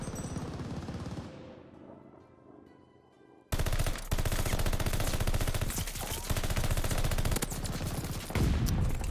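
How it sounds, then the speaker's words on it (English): Heavy gunfire in Call of Duty: Vanguard, loud sustained automatic bursts that begin after a quieter stretch of fading reverberant shots, continuing densely to the end with brief peaks. "I was shooting the ground in front of him."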